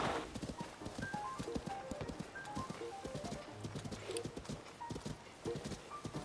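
A horse gallops in Zelda: Breath of the Wild, rapid hoofbeats drumming in a steady rhythm close by, with scattered chimes and game sounds mixed in over a quiet background.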